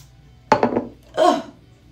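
Hairspray aerosol sprayed onto blow-dried hair during wand curling, two close hissing bursts, the first short and uneven, the second a smoother half-second spray.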